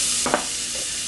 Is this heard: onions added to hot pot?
yes